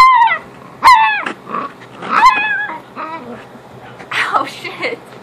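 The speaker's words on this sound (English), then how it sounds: "Now they'll bark at you." Miniature pinschers bark in sharp, high yips and growl through a few bursts, close and fairly loud, with short pauses between them.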